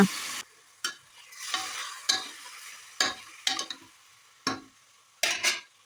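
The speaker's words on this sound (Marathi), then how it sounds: "आता आपण त्यात चिकन टाकून घेऊया आणि सर्व मिक्स करून घेऊया" Chicken pieces stirred into reddish-browned fried onions in a pan, with a soft sizzle and repeated bursts of scraping and stirring spaced about a second apart, close and with no talking.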